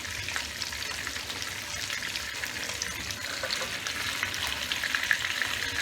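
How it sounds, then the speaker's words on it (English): Bell peppers, smoked sausage and onion sauté in bacon fat with a steady, close, crackling sizzle and occasional stirring scrapes, no voices. "you want to start sauteing these right here in this fat"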